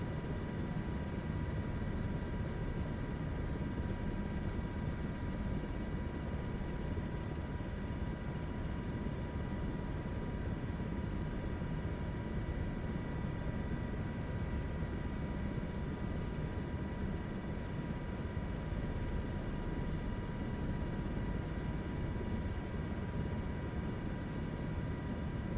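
An MH-60 Blackhawk helicopter in Microsoft Flight Simulator 2024 flies fast, its engine and rotor noise forming a steady, unbroken droning roar with a faint whine throughout.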